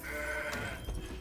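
In the card game Legends of Runeterra, a goat unit is played with a short, nasal bleat, followed by a brief soft thump of the card landing.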